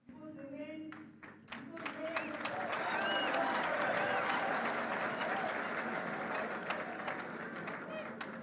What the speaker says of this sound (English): It got lost in the clapping.